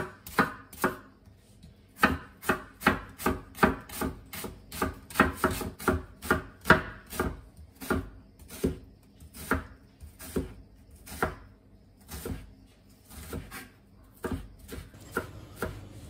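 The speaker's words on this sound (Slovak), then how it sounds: "Cibuľu som nakrájal na drobnejšie kúsky." A knife chops an onion into small pieces on a cutting board, with dozens of sharp, close knocks in quick, uneven bursts and short pauses between them.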